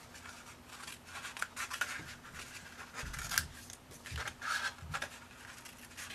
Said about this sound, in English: you're going to snip away the other flaps